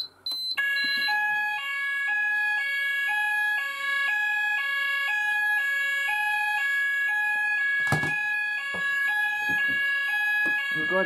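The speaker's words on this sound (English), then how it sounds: "the alarm should sound because it's a new zone, a new firing zone" An Apollo XPander fire alarm sounder, triggered by a call point test, blares continuously, a two-tone electronic pattern alternating steadily and loudly, with a brief clunk partway through.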